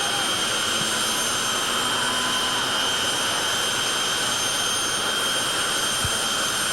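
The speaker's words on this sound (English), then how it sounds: "That's how fast those turbines are spinning in those jet engines." A steady, loud jet dragster turbine roar with a high whine on top, continuous throughout with no talk.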